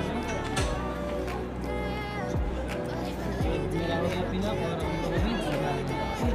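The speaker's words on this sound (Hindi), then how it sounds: "भीड़ है यहाँ पे, काफ़ी भीड़ है" Crowd of people, including schoolchildren, gathered at the Rajgir zip line in Bihar, with a steady babble of overlapping voices and movement close by throughout.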